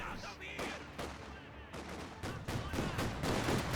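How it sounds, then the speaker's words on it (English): MG40 machine gun fire in Company of Heroes 2, steady rattling bursts mixed with distant gunfire and battle noise, continuous and dense throughout. "MG40 fire away, suppress the conscripts"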